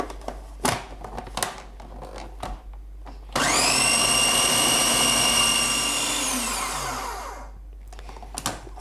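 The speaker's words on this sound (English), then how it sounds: "So pop your lid on your food processor." A food processor whirs through a chickpea burger mixture, a loud steady motor drone that starts abruptly, runs for about four seconds, then winds down, with small knocks before and after.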